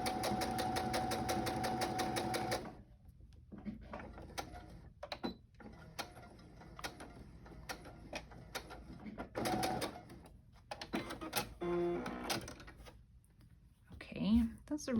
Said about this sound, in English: My sewing machine is like, thank you for finally putting some fabric in here.